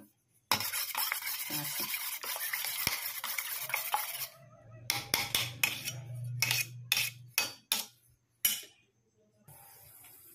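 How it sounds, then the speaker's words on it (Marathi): Egg mixture seasoned with chilli powder and salt is whisked with a utensil in a bowl for an egg bhurji, a steady scraping stir followed by a series of sharp separate clinks and taps, close and clear with no talk. "थोडं मीठ टाकून ते कालवून घ्यायचं असं"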